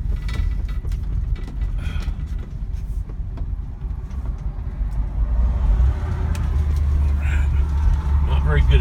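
A 1964 Ford Galaxie 500XL with an automatic transmission drives over a rough drive, a low engine rumble under rattles and creaks from the body, growing louder toward the end, with a person talking.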